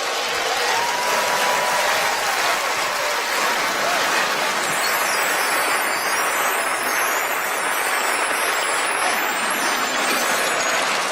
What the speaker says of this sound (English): Give my volunteers another big round of applause.